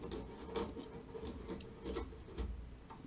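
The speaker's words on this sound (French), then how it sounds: "vous allez passer donc avec votre cutter ou votre couteau à vous de voir pour découper le joint" Utility knife or blade scraping and cutting through an old silicone sealant joint, giving a steady close-up raspy rubbing with a few stronger strokes, no talk.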